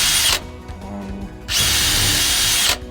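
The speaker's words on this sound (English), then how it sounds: "Make sure to pre-drill your holes because you are drilling right at the edge of the board." A power drill pre-drills holes in the edge of a board for a wooden sauna frame, with two loud, steady whirring bursts separated by a short quieter pause as the bit is repositioned.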